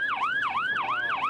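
An ambulance siren in a snowy traffic jam in Slovenia wails in fast, repeating up-and-down sweeps, about four cycles, moderately loud and clear with no talking.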